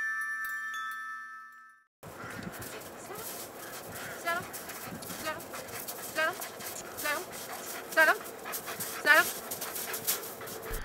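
A dog pants steadily with rhythmic breaths, broken by a few high-pitched whimpers, all close and clear, after a short burst of unrelated tones at the start.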